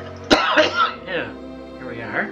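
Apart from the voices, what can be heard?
cough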